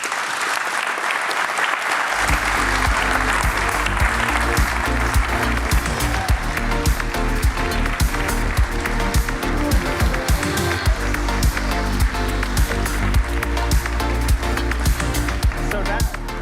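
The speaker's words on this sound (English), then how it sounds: "would all the representatives from the startups who joined us today stand and have a round of applause" A conference audience at a technology summit breaks into sustained applause for startup representatives, loud and dense from about two seconds on, continuing steadily to the end.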